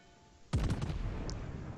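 Battleship main guns fire in World of Warships, the naval combat game: a sudden loud salvo of several overlapping booms, then a rumbling decay.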